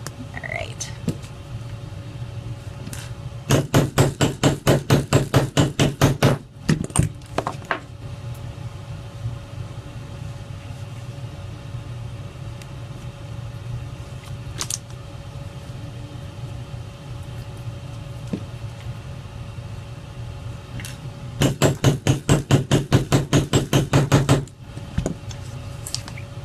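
Rivets are hammered into a leather cuff bracelet in two rapid bursts of sharp, evenly spaced metal taps, a few isolated knocks between them, over a quiet room hum.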